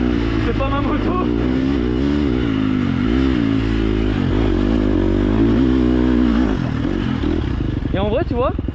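Close, loud KTM motocross engine on a small dirt track, revving and surging through throttle changes for the whole stretch, with a voice talking over it.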